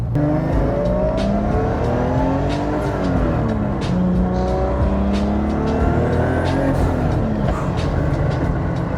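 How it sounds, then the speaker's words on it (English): A tuned turbocharged car with a 4-inch downpipe exhaust revs loudly and continuously up close, its engine note rising and falling as it pulls away on a drive. "It sounds like more like a downpipe, 4-inch downpipe all the way to the back."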